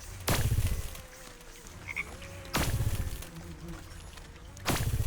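Frogs croak in the fantasy crafting game Wytchwood, three loud broadband bursts spaced a couple of seconds apart over a low ambient game background, with no talk.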